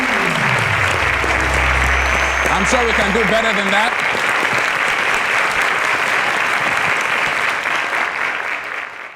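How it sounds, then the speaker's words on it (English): Audience at a teachers' edition quiz show applauds contestants with steady, dense clapping that fades toward the end, while a host speaks over the start. "Ladies and gentlemen, round of applause to them."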